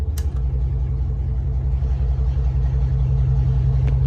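A Chevrolet Tahoe engine rumbles low and steady while the truck drives in four-wheel drive, a loud, close, continuous drone with a brief knock near the start.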